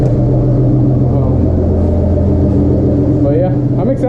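Car engine of a TTV6 fitted with an AEM water methanol kit, droning steadily on a test drive as a loud continuous cabin rumble with a slight rise in pitch near the end.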